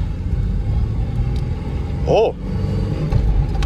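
Low rumbling drone of an old Ford Mustang engine running under load, steady throughout, with a brief shouted exclamation from a person partway through.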